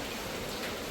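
Steady rain pours down on a Kerala rainy day, a dense, even hiss of falling drops that fills the whole moment without a break or any voices.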